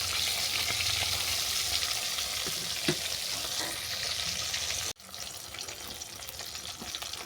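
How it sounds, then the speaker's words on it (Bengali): Cabbage pieces with turmeric fry in oil, browning as they are turned, giving a steady close sizzle with occasional stirring scrapes and a brief clunk near the end, then a slightly quieter sizzle. "এটাকেও আমি মাছের মতো উল্টো পাল্টে বাদামি করে ভেজে নেব।"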